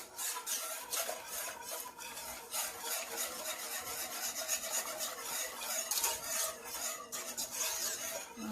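A whisk scrapes and swishes rhythmically through coconut curry carrot soup in a pot, a quiet, close, repetitive rasping that continues without pause.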